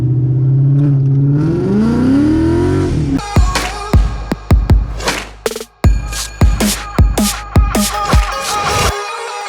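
A Ford Mustang engine idles, then revs up hard in a series of loud, sharp throttle blips, each followed by quick drops in pitch, close by and dominating without talk.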